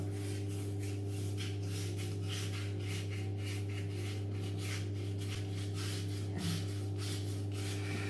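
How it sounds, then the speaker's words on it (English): An OmniShaver head shaver rubbed back and forth over a scalp makes close, rhythmic scraping strokes over a low, steady motor hum, with no talking. "Just rub it back and forth over your head like that."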